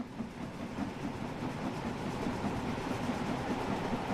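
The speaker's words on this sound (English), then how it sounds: "That's the other train, the other steam train." A Jubilee steam passenger train rumbles past in the video game Train Sim World 3 on the Peak Forest Railway, a steady, dense rolling roar with faint rhythmic clatter throughout.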